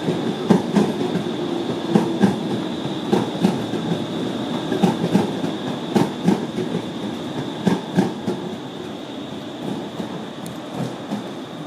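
A Bielefeld Stadtbahn light rail tram on line 2 passes close by with steady rumble and rhythmic wheel clatter over rail joints. The sound stays moderately loud throughout with no talk.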